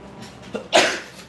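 A single short, sharp sneeze bursts out close by after a faint intake of breath, then fades into quiet.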